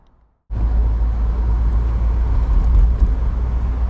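A Lancia Dedra Integrale 8v starts up out of near silence and then drives on the road, giving a loud, steady, low engine drone and road rumble close by with no speech.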